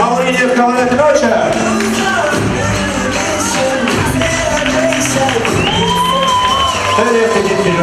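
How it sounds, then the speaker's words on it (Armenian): A crowd applauds and cheers at a celebration welcoming the hosts, dense clapping and whoops under music and a loud amplified voice over the top. "Բարձր ծափահարություններով դիմավորում ենք խավորին և խավորակնոջը"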